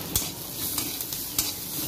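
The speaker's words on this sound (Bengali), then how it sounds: "সবকিছু ভালো করে একটু ভেজে নেব।" Chopped green chilli, grated ginger, turmeric powder and salt fry in a pan with a faint steady sizzle, broken by a few sharp scrapes and clinks as a spatula stirs them.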